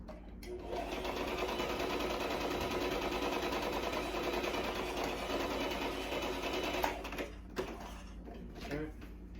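A sewing machine stitches fabric for a handmade necktie, running in a steady fast mechanical whir for several seconds, then stopping, followed by a few handling clicks and rustles.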